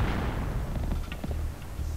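Mines exploding in Oddworld: Abe's Exoddus, a dense rumbling burst of blasts with low booming energy and crackling debris throughout, fairly loud and continuous for a couple of seconds with no talk over it.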